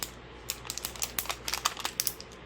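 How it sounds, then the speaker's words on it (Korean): A thin plastic film slides under the lifted corner of a Galaxy A90 5G OLED display during disassembly, a close, faint series of crisp crinkles and small scratchy ticks with no speech. "얇은 이 비닐을 넣어서"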